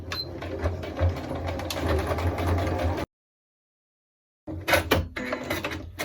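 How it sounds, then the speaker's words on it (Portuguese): A sewing machine stitching fabric scraps in a busy mechanical whir, running for about three seconds, stopping in silence, then starting again with a few sharp clicks and more stitching. "Vou baixar minha agulha e vou fazer a costura bem em cima da linha."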